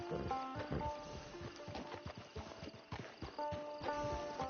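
Horse hooves clip-clopping in Red Dead Online, a steady run of close, crisp hoofbeats over game music, with a faint snort or whinny.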